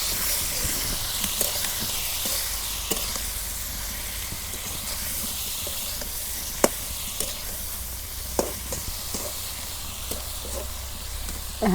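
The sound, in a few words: stirring turmeric and chili powder in frying pan, rohu fish curry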